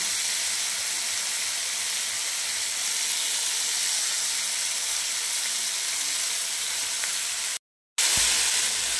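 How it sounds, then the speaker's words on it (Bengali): Pointed gourd and potato frying in a pan with chili powder, turmeric and cumin give a steady, close sizzling hiss that runs almost without break, cut by one short silence near the end. "পটল আলুটা ভাজা হয়ে গেছে"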